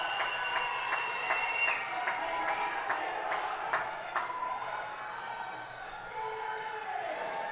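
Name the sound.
crowd cheering at powerlifting meet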